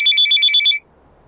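A mobile phone ringtone, a bright two-tone electronic pattern repeating in quick pulses for under a second before cutting off, loud and close in a quiet room.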